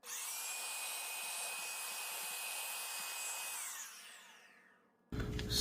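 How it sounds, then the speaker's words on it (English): A vacuum cleaner sucking up espresso coffee grounds whines steadily at high pitch, then winds down and fades out before a brief clatter at the very end. "Time to use the vacuum."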